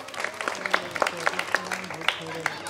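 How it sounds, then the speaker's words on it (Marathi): Scattered applause from a gathering at a primary school event, light clapping under someone talking over a hum of background voices, brief and uneven. "टाळ्या वाजवा त्यांच्यासाठी"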